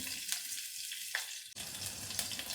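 Cumin seeds crackle and sizzle in hot ghee, a steady close broadband hiss with brief pops throughout and no talk.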